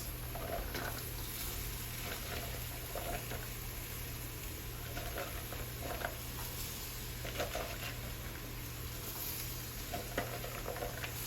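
Green peppers, onions, celery and carrots cook in a chicken soup pot with a soft, steady sizzle and light patter, plus faint stirring scrapes throughout.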